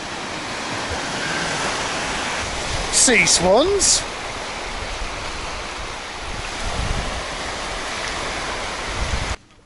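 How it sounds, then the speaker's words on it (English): Ocean waves break at the tip of Latvia, where waves arrive from two directions, making a steady broad roar of surf and wind. A brief voice speaks partway through. "some of the waves are coming in on this way, and some of the waves are coming in on that way"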